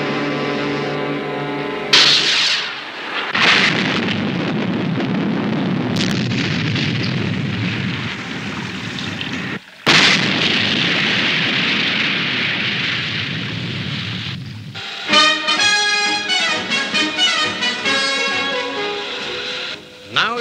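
Delta missiles are launched and explode in a science-fiction puppet undersea adventure, with loud rushing bursts and booming blasts in two long waves, a sharp cutoff between them, and then a rapid series of pulsing, stuttering explosions.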